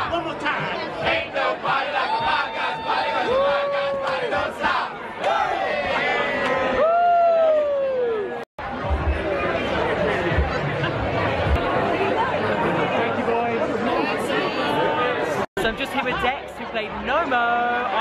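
A crowd lingers after a Five Guys Named Moe press night performance, producing a loud steady babble of overlapping chatter with whoops and excited shouts, a few nearby voices rising above the hubbub.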